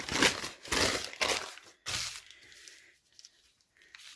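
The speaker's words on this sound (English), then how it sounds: "we could even crumple it up a little more" Paper is crumpled by hand in several close, crackling bursts, loud at first and then fading into fainter crinkles.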